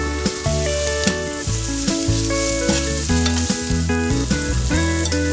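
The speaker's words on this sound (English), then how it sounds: "we're nearly done with sauteing the tomatoes" About one roughly chopped tomato sautéing in a pan for chicken rock and roll, giving a steady, close sizzle that runs without pause beneath prominent background music.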